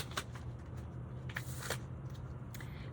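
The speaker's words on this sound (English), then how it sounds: "Pardon me while I shuffle some more." A tarot deck of bendy, pliable, edged cardstock is shuffled by hand, making a faint, quiet riffle of papery crackles and soft flicks that runs steadily, with a few louder snaps.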